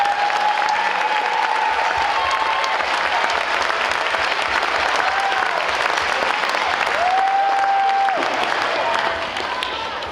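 Loud audience applause at a school band concert honoring fifth grade teachers, a continuous broad roar of clapping and crowd noise that stays steady throughout, with faint tonal sounds and a voice or two underneath.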